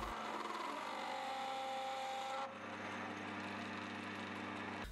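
A lathe hums steadily as it turns an aluminium workpiece, with a thin high whine from the cut that stops halfway while the motor keeps running.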